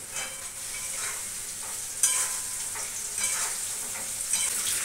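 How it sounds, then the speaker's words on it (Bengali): Potatoes frying in a pan make a soft, steady sizzle with small crackles and a few sharper pops, fairly quiet and close. "আলুটা মোটামুটি ভাজা হয়ে গেছে"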